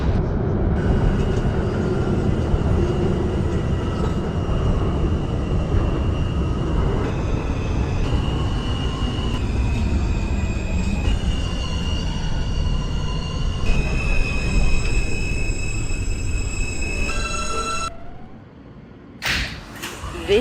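An R subway train runs in the openbve train simulator game, with a constant loud rumble of wheels on track, rising motor whines and tones, and a squeal before it slows and goes quiet near the end.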